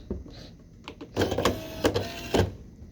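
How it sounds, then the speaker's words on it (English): A jetStamp 1025 Sense printer runs a short print pass, giving soft mechanical clicks and then several louder whirring, rattling bursts close by. "And it printed the information."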